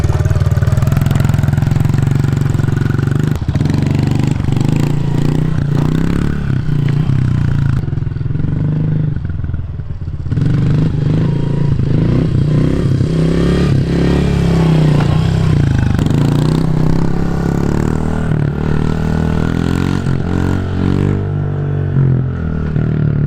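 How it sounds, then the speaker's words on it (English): A Honda CRF110 pit bike revs hard and loud on a paved road as its rider pulls wheelies, the engine note rising and dropping through throttle bursts with a brief lull midway and clattering mechanical noise throughout. "Let's go out to the road real quick and see. Do some wheelies out there."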